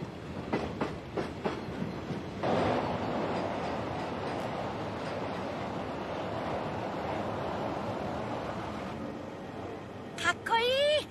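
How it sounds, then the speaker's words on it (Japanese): A car-carrying passenger train rolls in with a steady rumbling roar and rhythmic clatter, preceded by a few sharp knocks, with a high squeal of brakes at the end. "カートレインは人と車を一緒に乗せて走る列車のことなんだよ"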